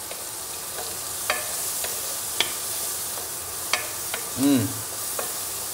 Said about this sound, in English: I'm gonna saute that up. I'm gonna throw them taters in there.